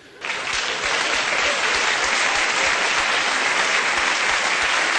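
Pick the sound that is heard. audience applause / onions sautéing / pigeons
audience applause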